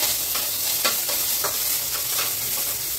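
Onions frying in oil with dried red chilli and nigella seeds, a steady close hiss and sizzle with faint stirring scrapes throughout.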